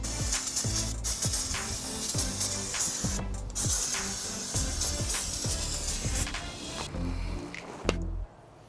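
Carburettor cleaner sprays in repeated short bursts onto a painted panel of a RA28 Fastback Celica, close loud hissing pulses in an uneven rhythm with no talk.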